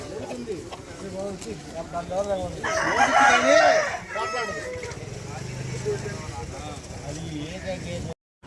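A rooster crows loudly amid other poultry calls at a Sunday country-chicken market in Vijayawada, with people talking and general market noise throughout.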